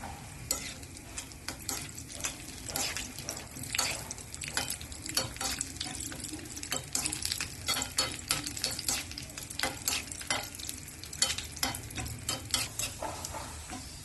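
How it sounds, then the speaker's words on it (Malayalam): Steady sizzling of cashews and raisins frying in hot ghee, with repeated scraping and stirring strokes from a spoon against the pan, close and continuous. "അണ്ടിപ്പരിപ്പിന്റെ കളർ മാറി തുടങ്ങുമ്പോൾ ഇതിലേക്ക് ഉണക്ക മുന്തിരിയിട്ട് വറുത്തെടുക്കാം."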